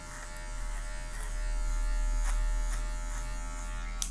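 An electric hair clipper buzzes steadily close by while cutting hair for a natural fade, a continuous loud hum that swells slightly in the middle.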